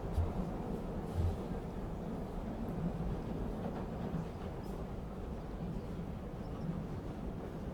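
Yamanote line train rumbling steadily through Tokyo at the close of day in the Chaos;Head Noah game, a continuous low, close rolling drone of rail cars with no voices.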